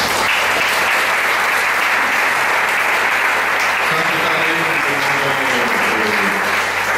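A church congregation applauds loudly and continuously, a dense, sustained roar of clapping filling the hall, with faint voices rising beneath it in the second half.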